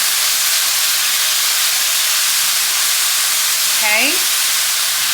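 Two garlic cloves sautéing over medium heat in a hot pan, giving a loud, even, continuous sizzle as they are stirred. A brief whistle-like sliding tone rises near the end, and a voice speaks briefly.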